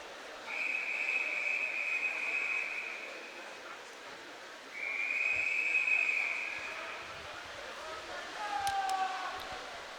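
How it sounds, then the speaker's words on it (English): Whistles sound at a 25m swimming pool during an age group championship gala, with two long steady whistle blasts and a few shorter faint ones at the end, heard at a distance over echoing poolside ambience. "which is probably why you can hear on the stream a few little whistles"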